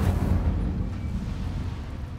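The Incendio fire spell from the video game Hogwarts Legacy bursts out as a fiery whoosh, then settles into a sustained low rumble that fades slowly and fills the clip at a moderate level.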